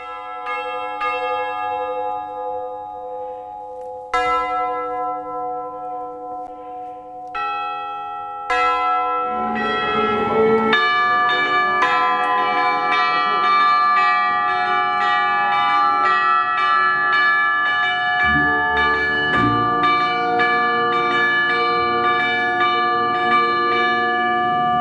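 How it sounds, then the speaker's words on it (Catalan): Church bells ring in a loud layered peal with an orchestra, from the bell passage opening the third act of Puccini's opera Tosca; single strokes come first, then overlapping tolls merge into a sustained ringing texture. "el començament del tercer acte, que està el famós concert de campanes"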